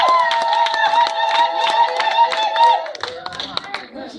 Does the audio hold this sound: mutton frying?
no